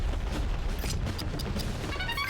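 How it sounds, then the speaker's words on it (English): Explosions and gunfire burst from the Battalion Wars video game, with dense crackling blasts and booms layered over a continuous rumbling roar, fairly faint and without pause. "Ubel sees the pretty explosion"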